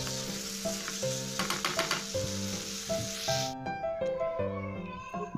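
Cubes of capsicum stirred and frying in tomato gravy for an aloo shimla mirch dish, a steady close sizzle with scraping stir strokes throughout, alone without talk.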